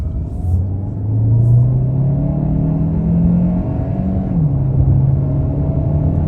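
A 2023 Hyundai Santa Fe Hybrid SEL Premium accelerates on the road, heard from inside as a steady, fairly loud engine drone whose pitch climbs smoothly, dips once and then holds, with no talking.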